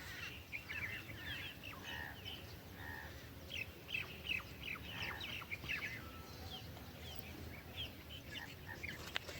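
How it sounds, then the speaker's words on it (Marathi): Birds chirp and tweet outdoors during a morning walk at sunrise, scattered short calls at moderate distance over faint background noise. "मस्त पक्षी उडताय"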